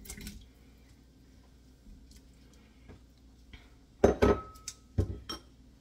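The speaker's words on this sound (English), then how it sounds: "I'm going to add in my beef broth" Beef broth and browned meat poured into a crock pot: after quiet moments, a sudden close burst of splashing liquid and clattering, then a few sharp knocks.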